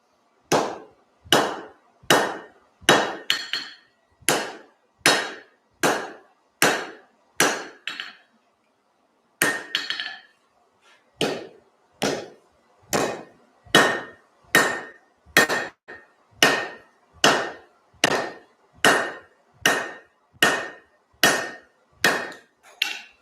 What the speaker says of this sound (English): I'm just drawing down this lawnmower blade piece so I can make a carpenter's chisel out of it